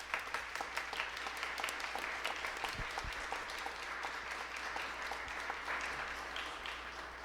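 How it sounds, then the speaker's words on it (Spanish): An audience claps steadily to welcome a music professor at a talk on pre-Hispanic music, a moderate even patter of applause lasting throughout without voices over it. "Pido un aplauso, por favor."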